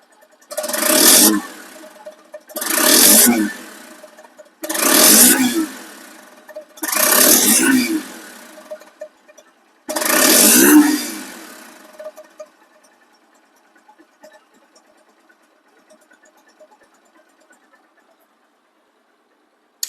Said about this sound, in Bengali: বাইকটি এমন সাউন্ড কোয়ালিটি শুনুন